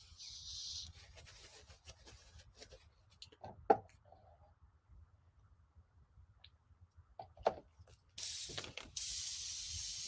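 An airbrush sprays in short hissing puffs while its needle is being cleaned. There are brief bursts at the start and end, with faint ticks and small handling noises in the quiet stretch between.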